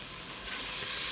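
Tomato paste stirred into a lentil soup base in a hot pan, a steady close sizzle with soft scraping from stirring, continuous and without talk.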